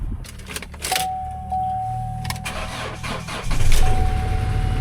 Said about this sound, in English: Let's see how this Duramax sounds.